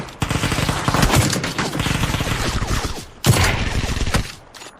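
Rapid automatic gunfire in a shooter video game, loud sustained bursts that stop briefly near the end, then resume and fade out, with no speech over them.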